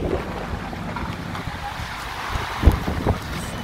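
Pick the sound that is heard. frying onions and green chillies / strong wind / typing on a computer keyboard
strong wind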